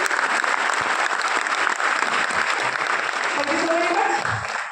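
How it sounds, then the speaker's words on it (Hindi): Loud, steady applause from a seated hall audience welcoming newcomers at a presentation, a dense wash of clapping throughout, with a few raised voices and a whistle-like tone near the end. "एक बार जोरदार ताली से अपने नए मेहमान का स्वागत करिए"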